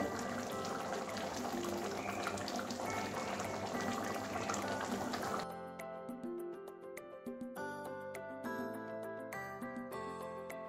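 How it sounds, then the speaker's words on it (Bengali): Gaanthi kochu (taro) curry simmers in a pot, giving a steady, close bubbling that fills the first half before turning quieter with clearer, ringing tones. "আবারও 4-5 মিনিট ফুটিয়ে নেব।"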